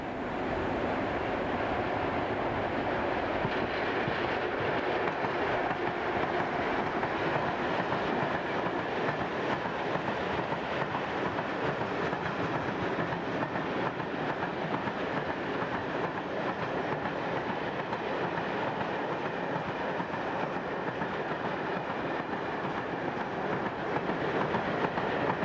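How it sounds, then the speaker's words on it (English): Two Class 753 diesel locomotives double-head an eastbound coal train on a steep climb, giving a continuous heavy rumble with the clatter of the wagons over about twenty-five seconds, steady and close. "a pair of Class 753 diesels double-head this eastbound coal working"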